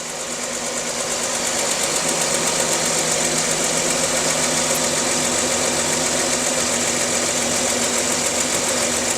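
A 2009 Chevrolet Equinox engine idles steadily with a dense mechanical rattle and whine, running continuously without talk after a brief rise at the start.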